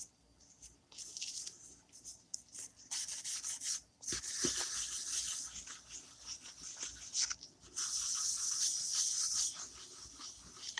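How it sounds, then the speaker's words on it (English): A napkin loaded with rubbing buff is rubbed lightly across embossed paper on a journal page, close soft scratchy swishing strokes in irregular bursts with brief pauses between them. "I'm just rubbing it across the tops to get that embossed part."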